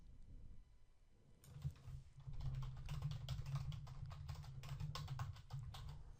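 Rapid typing on a computer keyboard while writing code, a quiet stretch followed by a dense, steady run of close key clicks with no voices.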